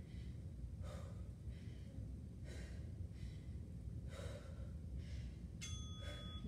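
Heavy, rhythmic breathing during a total-body conditioning workout, with loud gasping breaths about every second and a half over a constant wash of background noise.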